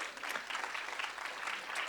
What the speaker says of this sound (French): Mathieu Becbédé, je propose qu'on l'applaudisse pour se chauffer un peu